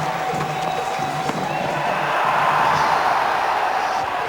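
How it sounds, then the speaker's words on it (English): A cricket crowd at a 1997 India versus West Indies match sends up a continuous, distant roar of cheering that swells toward the middle and stays broad and steady. "Peals from the crowd, not from the players"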